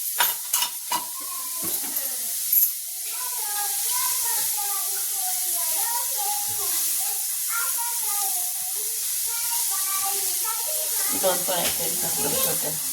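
Onion roasting in a kadai gives a steady close sizzle and hiss, with occasional stirring scrapes, while someone talks over it throughout.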